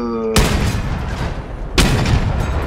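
Two heavy cannon blasts from the vehicular combat game Crossout boom out about a second and a half apart, each a loud broadband burst with a rumbling tail.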